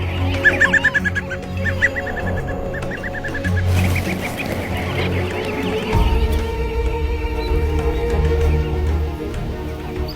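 A flock of grouse calls outdoors with a series of honking, clucking notes, loud bursts early on giving way to softer, overlapping calls against a low background rumble.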